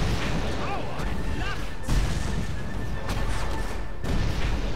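Mortar blasts in the Fable 3 video game: a dense, rumbling barrage of booms with sharp bursts around two, three and four seconds, loud and close, while a voice shouts over the noise.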